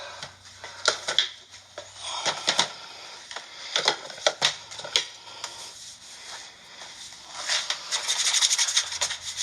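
A floured cookie cutter presses and twists through biscuit dough on a cutting board, making close dry rubbing and scraping sounds in short bursts, some louder than others, with no talking.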